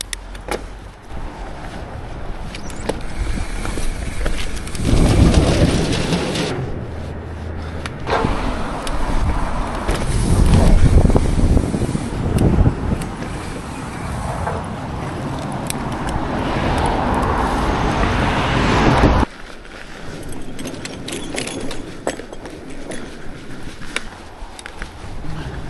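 A vehicle fitted with a new coil shock running a test lap of a rough trail called Rock and Robin, its engine droning loudly and steadily with bumps, rattles and changing load throughout.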